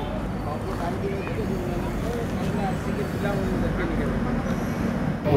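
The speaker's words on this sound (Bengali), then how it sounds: "মাত্র ফারাক্কা থেকে ট্রেনটা ছাড়লো" The Shatabdi Express pulling out of Farakka station, a continuous low rolling rumble heard from on board, with a voice talking over it throughout.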